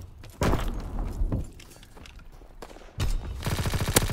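Rapid bursts of gunfire and booming shots in the World War II shooter Call of Duty WW2, with heavy volleys at the start and a fast machine-gun rattle near the end, loud and close.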